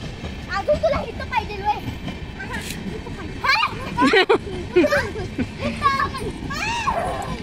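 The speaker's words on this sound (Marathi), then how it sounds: "वंदे भारत ट्रेन आली. केवढ्या जवळ जाते बघा ट्रेन." A high-speed Vande Bharat passenger train rumbles past close by with rushing, rattling noise, while children and adults chatter excitedly over it.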